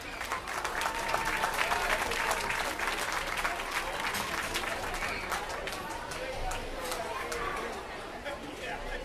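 Steady applause from the crowd at a youth swine fitting and showing event, with dense clapping and chatter at an even level throughout.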